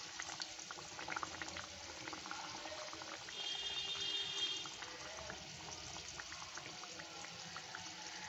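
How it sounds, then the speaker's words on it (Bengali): Chicken kachori pastries frying gently in oil over low heat, a steady soft bubbling and crackle that carries through the whole stretch and swells slightly near the middle. "আমি এই কচুরিটা বেলে ভাজতে দিয়ে দিলাম। খুব কম আঁচে ভাজতে হবে এটা।"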